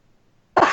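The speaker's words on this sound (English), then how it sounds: "The cough didn't work out quite well" A single sharp cough bursts out abruptly after near silence, loud and close, with no talk around it.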